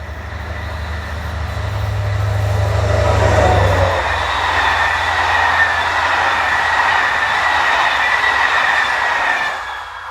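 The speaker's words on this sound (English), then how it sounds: "There are no other services on this line, except these CC72-100 powered trains, or the very occasional freight service." CC72-100 electric locomotive hauling a passenger train beside the River Saône, a loud low hum fading as the train rolls past with steady wheel rumble and whine, then tailing off.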